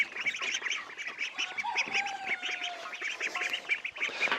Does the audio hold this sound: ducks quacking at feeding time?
yes